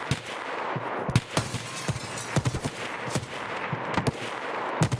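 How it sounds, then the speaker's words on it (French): Rapid bursts of gunfire in the video game Escape From Tarkov crackle in uneven volleys, sharp pops layered over a constant noisy background, some shots close and loud, others more distant. "Ça tire, il y a du monde."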